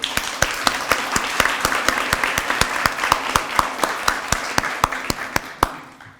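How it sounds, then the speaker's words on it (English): Audience at a children's book awards ceremony applauds, with a few sharp, distinct claps standing out in a steady rhythm over softer clapping that stops abruptly at the end. "I just want to give a round of applause for our picture book category."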